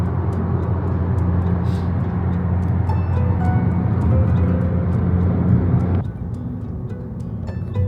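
Etihad Rail freight train rumbling past overhead near a mosque in Abu Dhabi, a loud continuous low drone with a steady hum that drops off abruptly near the end, leaving quieter background noise.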